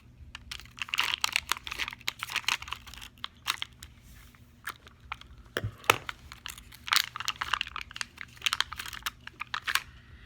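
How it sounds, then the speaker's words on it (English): Manufacturer's plastic backing sheet being cut during a craft repair, heard as close, quiet snips and crinkling rustles in irregular bursts, with no talking. "What I'm going to do now is cut a piece of this plastic that it came from the manufacturer on"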